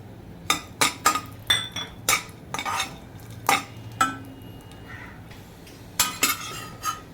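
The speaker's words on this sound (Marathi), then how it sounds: "मनुके भाजून घेऊया" Raisins are roasted in a pan while making methi laddoos: sharp metallic clinks and scrapes of a spoon against the pan, in irregular bursts over a quiet background.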